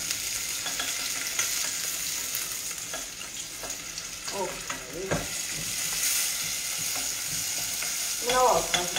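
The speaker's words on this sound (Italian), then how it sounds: "già sto soffriggendo" Aromatics sizzle steadily in a hot pan ahead of adding shrimp heads and shells, a continuous bright frying hiss with occasional scrapes and stirring clatters, loudest near the end.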